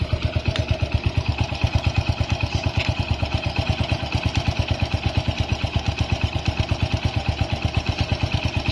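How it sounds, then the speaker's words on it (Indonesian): A classic Honda Win 100 motorcycle engine idles steadily close by, with a fast, even single-cylinder thump and a mechanical clatter running throughout and no talking over it. "Dengerin suara mesinnya teman-teman. Dengerin suara mesinnya."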